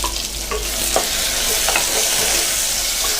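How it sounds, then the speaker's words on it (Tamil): Tomatoes and onions sautéing in a pan for spinach kootu, a loud steady sizzle with a few light stirring clicks, close by. "இது வந்து ஒரு 2 நிமிஷம் நல்லா வதங்கட்டும்"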